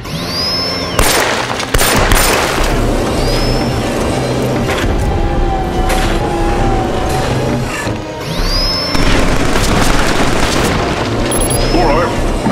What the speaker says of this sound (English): Take the pistol on the counter. Destroy the close targets on the range.